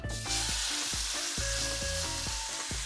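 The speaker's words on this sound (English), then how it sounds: "Now we're gonna go ahead and add the oil to the pan. And then we're just gonna sear the meat on both sides" Meat sears in hot oil in a pan for birria, a loud, steady sizzle running throughout with repeated low thumps and scrapes as the pieces are moved.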